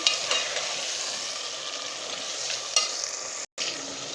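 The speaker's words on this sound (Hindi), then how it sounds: "अब मैं इन सारी चीज़ों को अच्छी तरह से भूनूंगी" Green chillies, dry coriander and ginger paste sautéing in a pan for aloo degi pulao, giving a faint, even sizzle with two light utensil scrapes and a brief dropout near the end, no voices.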